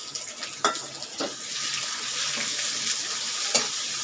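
Sliced onions frying in oil for a brinjal and potato sabji, a steady bright sizzle with a few soft clicks of a spoon against the pan, close and with no talking.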